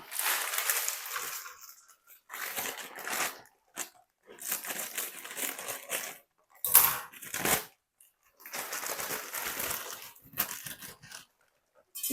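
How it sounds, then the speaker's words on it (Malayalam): Dry noodles crunch and crackle as they are snapped apart into a pan in several bursts separated by short pauses, close up, with no voices. "ആദ്യമേ നമുക്ക് ഇതിൻ്റെ അകത്തേക്ക് നൂഡിൽസ് പൊട്ടിച്ചിടാം"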